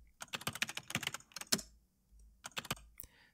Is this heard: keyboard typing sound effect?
yes